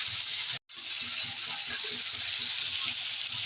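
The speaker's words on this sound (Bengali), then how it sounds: "একটা বড় সাইজের টমাটো কুচি দিয়ে দেবো। টমাটোটা একটু ভেজে নেবো।" Chopped tomato frying in a pan in a home kitchen, a steady close sizzle with a brief cutout near the start.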